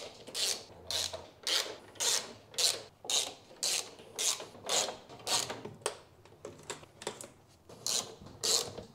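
Plastic trim clips being undone on a brace of a BMW M3 Competition, a series of about fifteen short rasping, ratchety clicks in a fairly regular rhythm, close and alone with no talk.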